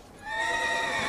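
A dragon horse mount in Elder Scrolls Online gives a single loud, bright whinny that rises and holds for about a second, heard alone with no talking.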